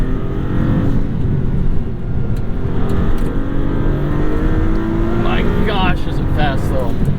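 A 2022 Maserati MC20 accelerating hard, its engine a loud, continuous roar that climbs in pitch through the gears, with rising whine-like sweeps near the end and a person speaking over the noise.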